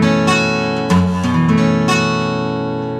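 Strummed acoustic guitar with a capo clamped slightly off-center, chords ringing with a faint buzz on some strings, close and clear, a few strums in quick succession.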